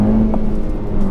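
The engine of a 2017 Honda Civic Si is revved hard on a straightaway, a loud, close, steady engine drone with no voices over it.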